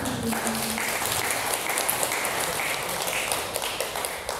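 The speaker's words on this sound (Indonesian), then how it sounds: "Beri tepuk tangan yang meriah" Audience applause at a talk on entrepreneurship, a steady broadband wash of clapping from a crowd, moderately loud and sustained for the whole stretch with no voice over it.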